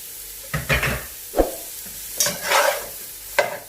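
Julienned carrots, green onion and bell pepper sauté in a hot pan for veg fried rice, sizzling steadily while a spatula stirs and scrapes in several distinct strokes, close and fairly loud with no talk.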